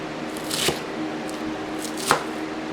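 A knife chops leftover romaine lettuce for a chopped salad, giving two distinct crunchy cuts about a second and a half apart over a quiet kitchen background.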